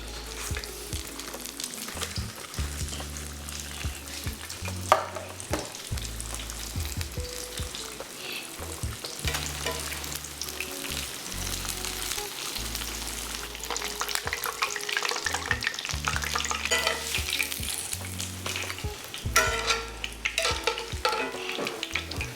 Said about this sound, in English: All right, now we're going back in for the last fry.